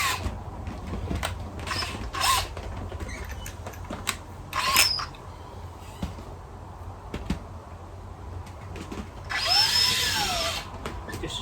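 A power drill boring a fine pilot hole for screws, heard in several short whirring bursts separated by pauses, with a final longer run whose pitch rises and falls.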